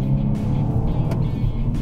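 Engine and exhaust of a BMW M235i Gran Coupé with xDrive, a steady, fairly loud, raspy drone heard from the cabin while driving.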